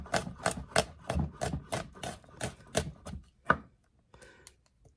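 A knife chops fresh garlic on a cutting board in a steady run of about a dozen close, crisp knocks, with a single quieter tap after a short pause at the end.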